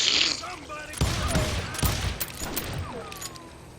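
Rapid gunfire from a Western-themed video game, several sharp shots in quick succession over game background sounds. Loud and close, with a brief high tone at the start.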